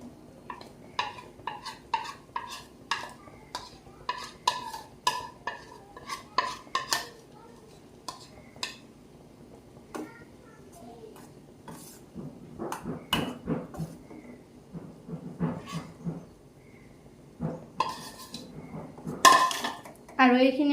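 A turmeric and gram flour mixture is stirred into melted homemade soap in a pot, giving irregular spoon scrapes and metallic clinks, close and fairly quiet, with pauses and brief talking.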